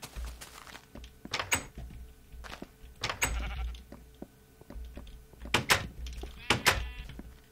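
Sheep bleats from the Minecraft video game repeat in short, bright, quavering bursts at irregular intervals, with soft in-game thuds and a person talking quietly underneath.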